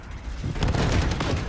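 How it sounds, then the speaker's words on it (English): A grenade goes off in Modern Warfare multiplayer gameplay, a short muffled blast that swells into a dense, rumbling burst of noise partway through. "Grenade."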